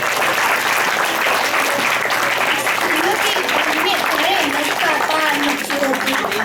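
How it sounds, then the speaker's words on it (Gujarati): Sustained audience applause from a crowd at a school children's assembly program, dense steady clapping filling the whole stretch with a voice speaking over it. "ખોબો ભરીને આપી દો તાલીઓનો ગડગડાટ"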